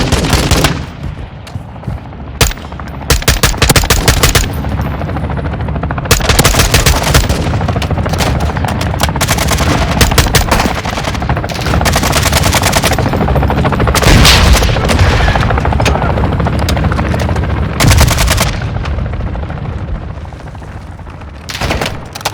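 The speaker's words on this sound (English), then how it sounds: "I'm taking enemy fire!" Dense, continuous gunfire and explosions from a Warzone 2 DMZ firefight, with rapid machine-gun bursts, single shots and heavy booms filling the whole span loudly and without pause.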